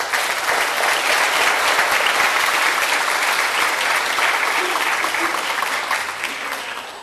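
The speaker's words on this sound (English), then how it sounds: "let's give them a round of applause" A large audience breaks into sustained, dense applause for caregivers at a cancer survivors' event, loud and steady throughout before tapering slightly at the end.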